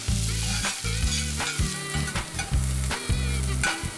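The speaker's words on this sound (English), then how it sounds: "Toss in the diced brown onion" Diced brown onion sizzling in olive oil in an oven-proof skillet, a close, steady frying hiss broken by regular stirring strokes and scrapes, no voices.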